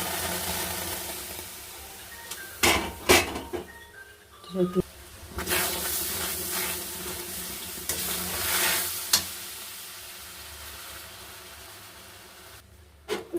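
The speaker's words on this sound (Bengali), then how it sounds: "এবার আমের পেস্টটা আমি ঢেলে দিলাম" Mango paste cooking in a pan as a spoon stirs it, giving soft sizzling with intermittent scraping strokes and clacks and brief quiet gaps between.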